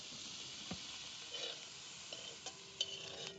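Wet cashew nut curry sizzles quietly in a pan outdoors while a utensil stirs it, with a few soft clinks and scrapes against the metal.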